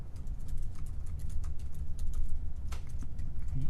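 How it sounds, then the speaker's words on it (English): Rapid clicking of computer keys runs continuously and fairly close, with irregular keystroke rhythm over a low steady room hum. "Are you typing that?"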